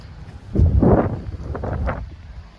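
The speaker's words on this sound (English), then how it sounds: "For it's windy." Gusty wind buffets the microphone in loud, rumbling bursts that swell and fade over a couple of seconds.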